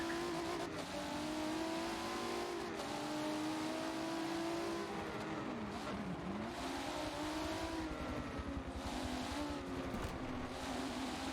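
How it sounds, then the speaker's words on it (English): A race car in a racing video game lapping Brands Hatch, its engine droning continuously and rising and falling in pitch through the turns, with a dip as it brakes midway, steady and close with no voices. "We have the America car. Bit aggressive on the turns, but staying on the track."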